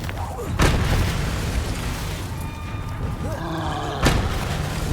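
Confringo blasting-spell explosions in the Hogwarts Legacy video game, two sharp loud booms about three and a half seconds apart over a busy, rumbling game soundscape with magical whooshes between them.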